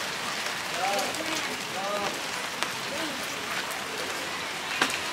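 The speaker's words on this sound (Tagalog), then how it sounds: "Medyo mahina lang naman ang ulan eh." Light rain falls steadily outdoors beside an e-bike loaded with parcels, a soft even patter that runs throughout with a few brief sharper drops, while people talk quietly over it.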